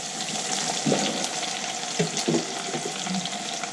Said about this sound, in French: Et vous laissez un petit peu griller vos oignons.